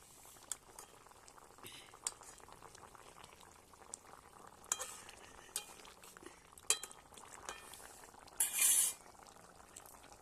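Garam masala paste mixed with water is stirred into a simmering home-cooked dish, giving a soft, steady bubbling boil with scattered light clinks of a spoon against the pot and a brief louder scrape near the end.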